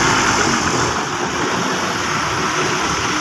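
A car's engine idles as a steady, loud, broadband hum with a constant drone and no distinct revs, heard close and alone for a few seconds.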